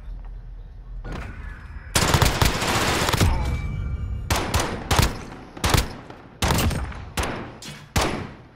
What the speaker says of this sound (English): Shooting all around him